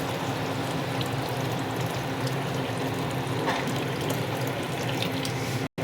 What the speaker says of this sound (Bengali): দেখো আমি গরম জলটা দিয়ে দিচ্ছি।